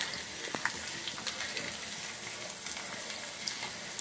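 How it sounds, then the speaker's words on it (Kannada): Curry leaves frying in hot oil for an instant mango pickle, a steady close sizzle and crackle with faint clinks, no talking. "ಇದು ಕರ್ಬೇವಿನ ಸೊಪ್ಪು ಹಾಕ್ತಾ ಇದ್ದೀನಿ. ಇದಿಷ್ಟು ಚೆನ್ನಾಗಿ ಫ್ರೈ ಮಾಡ್ಕೋಬೇಕು."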